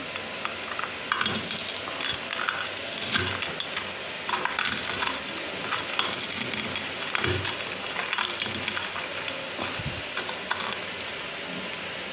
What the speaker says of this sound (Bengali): বড়িগুলো একটু গুঁড়ো করে নিচ্ছি